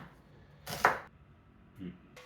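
Onions being roughly cut into large pieces on a board, with one firm knife chop and a softer second one, separated by quiet pauses.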